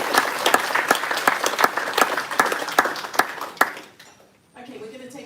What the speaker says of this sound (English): Can we have a round of applause for our panellists?